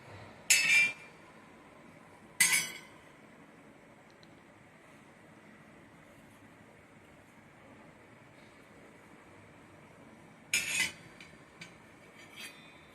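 A large, heavy antique bronze ladle clinks as it is handled: three short, bright metallic knocks spaced well apart, with a quiet background in between.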